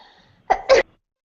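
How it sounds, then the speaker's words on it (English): A single sharp sneeze in two quick bursts, a short breath-like lead-in followed by a loud explosive release, close to the microphone, then silence. "Uh-oh, I'm going to sneeze."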